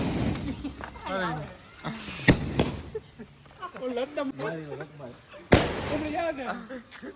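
Sharp firecracker bangs burst out twice, loud and close, while several people chatter and talk excitedly around them.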